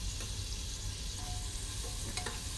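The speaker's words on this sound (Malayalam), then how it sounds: "സവാളയും കൂടി ഇട്ടൊന്ന് ചെറുതാക്കി ഒന്ന് വഴറ്റിയെടുക്കാം" Onions sautéing in a pan for prawn biryani, a steady close sizzle with scraping stirs and occasional sharp clinks throughout, no talking.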